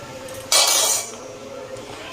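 A metal pot of freshly cooked new rice lifted off a home stove, giving one loud clattering scrape of metal on metal that fades into a quiet kitchen hum.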